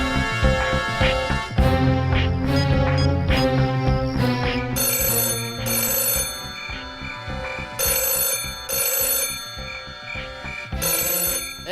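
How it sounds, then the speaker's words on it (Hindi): A mobile phone rings with a loud, bright electronic melody that repeats in bursts for several seconds, alone with no talking. "देखिए कहीं फोन तो नहीं बज रहा है।"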